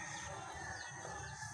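Pet chickens being fed, faint far-off clucks and crowing over a low, steady rural background hum, no talking.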